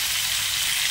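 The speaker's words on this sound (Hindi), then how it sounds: "आलू को भी हम एक मिनट तक हल्का गोल्डन ब्राउन होने तक हम फ्राई कर लेंगे" Potato pieces fry in hot oil with a dense, steady sizzle, close and continuous throughout the short moment, with no talking.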